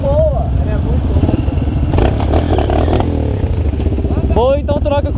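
Engine of a Beta off-road motorcycle revs hard and clatters up close, with rising and falling pitch as the throttle is worked, while people shout and talk over it.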